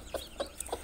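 A hen hatching chicks gives three soft, short clucks at an even pace, nearby but fairly quiet against a low background.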